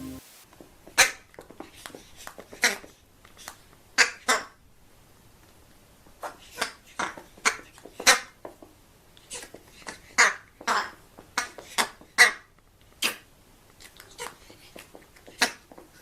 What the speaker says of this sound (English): I would not expect the crow to make those kinds of noises.